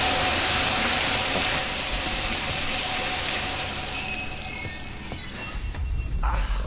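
Running water from a sci-fi space shower in the video game Dead Space 2, a steady broadband hiss that holds throughout, with a low rumble and a brief clunk near the end.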